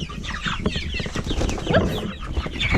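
Meat chickens of the same age but widely varying sizes cluck and chatter steadily in a close, busy flock, with overlapping calls throughout.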